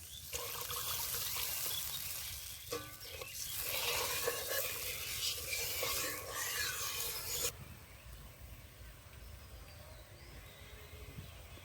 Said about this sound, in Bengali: জল আর একটু জল দেবো